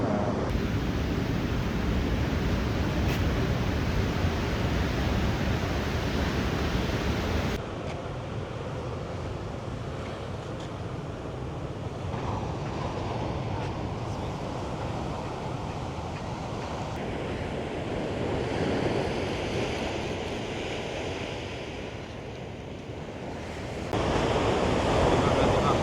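Ocean surf rolls and breaks along a San Diego beach promenade, a continuous loud wash of waves with gusty wind buffeting the microphone, the roar easing slightly midway before swelling again.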